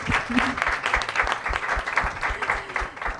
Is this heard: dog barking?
no